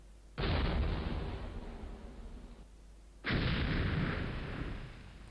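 Two heavy cannon-like volleys boom from a unit firing in the video game Battleground: Antietam, each a sudden loud blast that rumbles and fades over about two seconds, with no voices.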